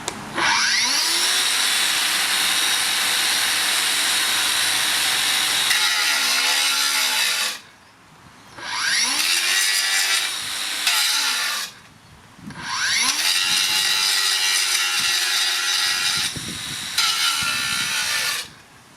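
A Makita 9-inch battery angle grinder cuts under load, its motor whine bogging down and recovering repeatedly, broken by a few short pauses between loud passes.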